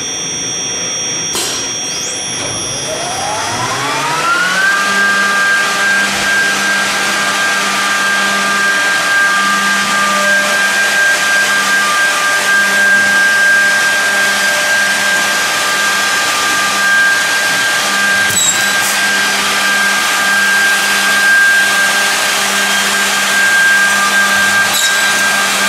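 An Interwood MFB60CY edgebander starts its chain feed and milling, end trimming, rough trimming and fine trimming heads, spinning up into a loud, steady high whine with a low hum beneath that holds for the rest of the run.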